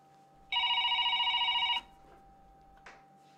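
A telephone rings once at close range, a bright warbling electronic bell lasting just over a second, then stops, followed by a brief soft clunk in otherwise quiet surroundings.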